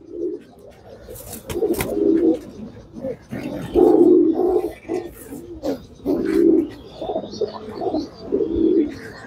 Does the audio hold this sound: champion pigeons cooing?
yes